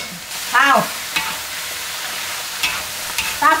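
Shiitake mushrooms, red dates and tofu skin being stir-fried in a wok for braised vegetables with red fermented beancurd, with a steady hiss under several sharp, bright clatters and scrapes of stirring, close and fairly loud.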